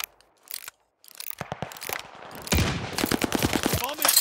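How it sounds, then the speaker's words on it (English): A bomb is planted in a Call of Duty match, heard as a rapid run of mechanical clicks and ratcheting ticks that grows busier and louder toward the end, with a brief pause after the opening sounds. "Setting the bomb."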